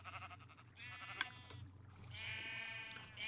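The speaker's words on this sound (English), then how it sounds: "the red sheep just happened to be there eating as I as I came to check on him" Sheep bleating in the Minecraft video game, two drawn-out wavering bleats, one near the start and a longer one in the second half, over a steady low hum.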